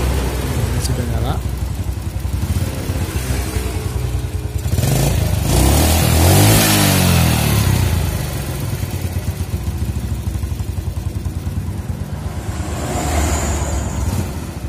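Yamaha Jupiter Z motorcycle engine with hard starting and unstable idle, running close and loud with a rough putter that surges around the middle before settling, while someone talks over it.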